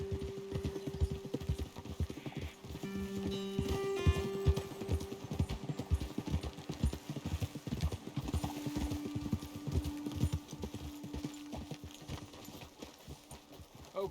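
Rhythmic clip-clop of horse hooves trotting steadily in the video game Red Dead Redemption 2, with a brief whinny and faint background tones, no talking.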